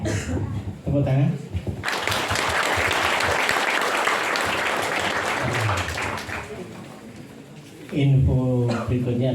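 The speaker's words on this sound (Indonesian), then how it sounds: "Tepuk tangan." An audience applauds after an ustad's religious lecture, a thick burst of clapping lasting several seconds, framed by someone speaking just before and just after it.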